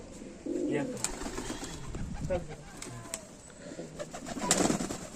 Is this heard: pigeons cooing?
yes